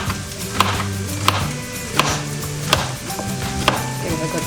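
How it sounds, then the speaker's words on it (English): Vegetables are chopped into small pieces with a knife on a cutting board in a home kitchen, giving about five distinct, evenly spaced thuds over steady background music. "give it a good chop and just add that to your pan."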